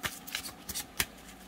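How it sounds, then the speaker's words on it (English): Wise Dog Tarot cards by MJ Cullinane are hand-over shuffled, giving several quick, close, papery slides and flicks in an uneven rhythm. "Let's see how they hand over shuffle."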